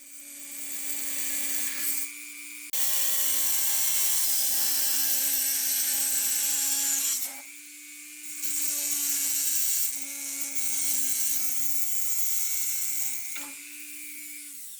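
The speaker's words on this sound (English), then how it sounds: "The Dremel tool is something that I thought was absolutely necessary to get the small cuts." A Dremel rotary tool with a diamond blade cuts backsplash tile, a loud high-pitched whine that rises as the blade bites in, breaks off in pauses, then resumes in several long, close passes.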